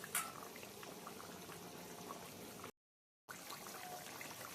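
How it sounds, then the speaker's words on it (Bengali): Pomfret fish curry in mustard and poppy seed gravy boils softly, with faint, steady bubbling and gurgling that cuts out briefly to silence partway through. "মাছ দেওয়া হয়ে গেছে, এবার কিছুক্ষণ ফুটতে থাকো।"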